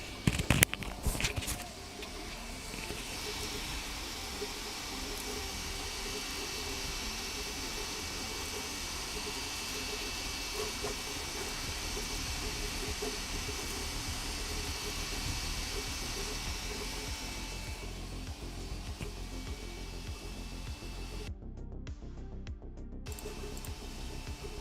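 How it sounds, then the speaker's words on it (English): A Sovol SV06 Plus 3D printer runs with a steady, even mechanical hum and faint whirring, unfiltered, continuous at low level with a brief clatter at the start. "that sounds perfectly reasonable for a 3D printer in this price range"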